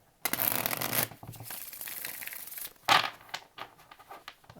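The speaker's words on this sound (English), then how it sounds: "Last shuffle for Taurus, please." Tarot cards are shuffled by hand in close, crisp riffling bursts with papery flutter, a loud burst at the start, steady shuffling through the middle and another burst near the end.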